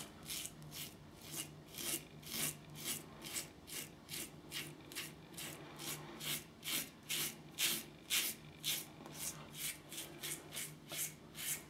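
An Above The Tie G1 safety razor scrapes across stubble against the growth in a steady series of short, crisp rasping strokes, close and quiet, about two per second.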